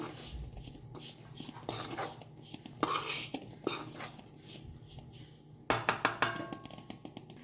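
A spoon scrapes and clinks around a pan in uneven strokes as Goan garam masala is stirred in for chicken xacuti, with a run of sharper metallic taps near the end; no one speaks.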